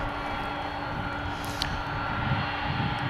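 A McDonnell Douglas MD-11 jet at DFW International Airport produces a steady, broad engine roar throughout, moderately loud and continuous, with faint background hum and no talk.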